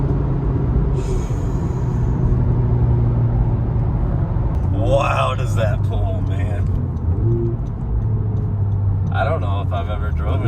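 A 10th-generation Honda Civic Type R engine pulls hard under acceleration, a steady loud drone heard from inside the car as people talk over it.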